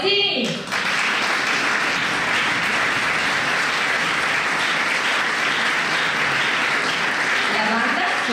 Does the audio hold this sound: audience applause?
yes